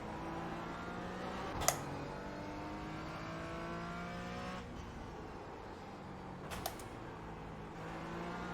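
A GT4 race car at Zandvoort in iRacing drones and climbs through its revs, pitch sweeping up through the gears, with a couple of sharp clicks or knocks standing out against the steady engine tone.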